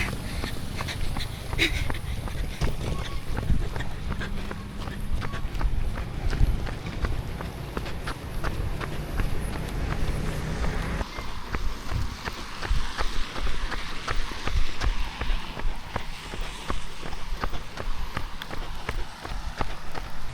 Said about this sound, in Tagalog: medyo mahirap palang tumakbo pag umuulan